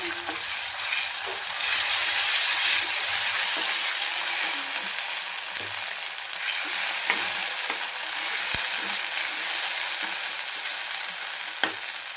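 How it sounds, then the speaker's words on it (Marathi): Ginger garlic paste sizzles steadily in hot oil in a pan while a white bean curry is cooked, a loud continuous frying hiss with occasional light clinks from stirring. "आता यामध्ये मी अद्रक लसूण पेस्ट ॲड करते"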